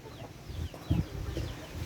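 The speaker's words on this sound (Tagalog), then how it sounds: "Nagsisita kasi yung mga manok." Backyard chickens in a rural Philippine farmyard give short clucks close by, with one louder cluck near the middle, over a low murmur of farm background.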